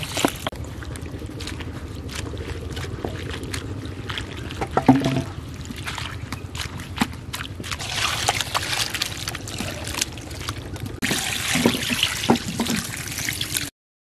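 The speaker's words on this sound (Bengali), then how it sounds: "এবার কুচনোর পরে আর একবার ধুয়ে নেব" Chopped cabbage being rinsed in water for a potato cabbage ghonto, with steady sloshing and trickling and a few splashes and knocks of a vessel, close and continuous without talk.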